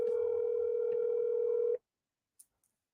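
Steady telephone call tone heard while phoning someone, a loud continuous hum lasting under two seconds before cutting off abruptly, followed by near silence with a couple of faint clicks.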